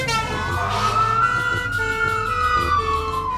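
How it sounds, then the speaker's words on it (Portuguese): An animated ambulance in a children's song wails with a loud, close siren, its sweeping tone rising and falling steadily over a low engine rumble. "Vejam, está chegando uma ambulância."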